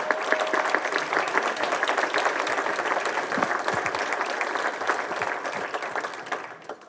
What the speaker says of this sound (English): if I could just have a brief round of applause for Steve and for Tom